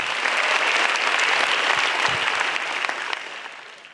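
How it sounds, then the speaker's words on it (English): Audience applause at a stand-up comedy show grand final, dense and steady clapping from a full room that slowly tapers off toward the end, with no voices over it. "give a big applause for Kompas for this amazing competition"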